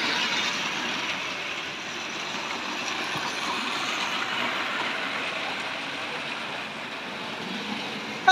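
A Tri-ang model railway train runs steadily along its track with a continuous close rolling whir and faint clicking, holding an even level throughout before a brief louder bump at the very end.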